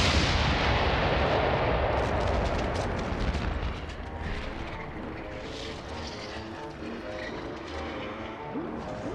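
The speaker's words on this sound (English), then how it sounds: "a bat grenade." A bat grenade blows up in Batman: The Animated Series with a loud, booming blast that rolls into a long rumbling roar and slowly fades, with scattered crackling debris underneath.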